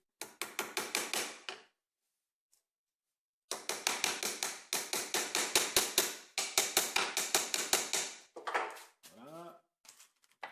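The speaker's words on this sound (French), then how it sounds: "Donc je vais venir enfoncer un clou ici, et puis un clou ici." Rapid hammer blows drive nails into a wooden beehive frame, close and sharp, in quick bursts of taps with a short pause between runs and a brief scrape near the end.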